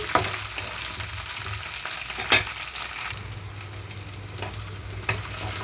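Slit green chillies fry in oil in a pan, giving a steady soft sizzle with occasional clicks and pops as they are stirred, near and moderately quiet with no talking.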